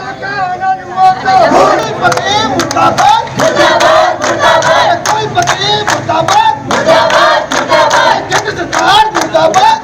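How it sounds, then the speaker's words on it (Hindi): Students at a protest chant slogans against the central government and education minister over CUET, a loud crowd calling out rhythmic shouted lines in repeated surges with sharp accented beats throughout. "छात्रों ने केंद्र सरकार और शिक्षा मंत्री के खिलाफ जमकर नारेबाजी की"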